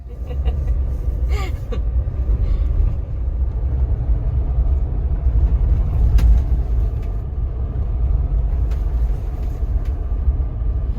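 A 2023 Jeep Wrangler JL fitted with APEX Designs AutoLYNX sway bar disconnects rolls along on a test drive. A steady, close, low engine and road rumble fills the cabin, with a few faint clicks and knocks.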